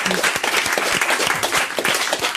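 Studio audience at a French radio show applauding after an interview, steady dense clapping throughout, close and fairly loud.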